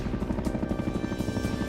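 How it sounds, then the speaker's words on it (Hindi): Russian navy anti-submarine helicopter in flight, its rotor beating in a steady rapid chop with a continuous engine whine, loud and close throughout with no voices. "रूसी नेवी के एंटी सबमरीन हेलीकॉप्टर ने शक्ति प्रदर्शन किया"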